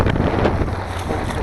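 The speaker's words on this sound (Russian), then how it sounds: "Короче, ветер." Strong wind roars in a snowy blizzard during a winter fishing trip after zander, a loud, close, continuous gust that buffets the microphone.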